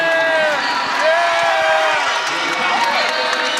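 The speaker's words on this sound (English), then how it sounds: "the whole state of Virginia is cheering for McCoy" A dense crowd of Virginia wrestling fans at the ACC Wrestling Championships semifinals cheers loudly and steadily, with shouts and whoops rising over a continuous roar.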